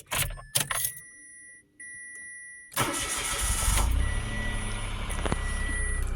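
A 2024 Mitsubishi Mirage G4 starts up: keys jingle and a few chimes sound, then the starter cranks and the small engine catches and settles into a steady idle, close and fairly loud.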